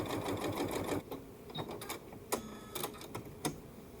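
A sewing machine stitches quilt seams in short runs. A busy whirring burst gives way to scattered clicks and a few sharp taps, quiet and close.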